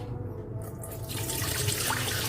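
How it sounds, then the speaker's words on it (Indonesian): About 500 ml of water pours steadily into a bowl of sweet martabak batter made with flour, milk powder and egg, a loud continuous splashing rush building slightly in strength. "Kita tuang saja airnya semua."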